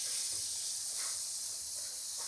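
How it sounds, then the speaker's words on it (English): Parboiled vegetables sizzle in butter over a high flame, a steady, fairly quiet hiss that runs unbroken with slight crackles. "Add your veggies to the butter, the parboiled ones."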